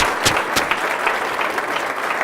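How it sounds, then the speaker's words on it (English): A room full of people gives the children a round of applause at a Kids Listen Foundation event, dense steady clapping filling the whole stretch with a couple of sharper individual claps standing out near the start. "let's give one round of applause for these kids"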